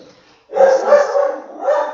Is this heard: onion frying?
no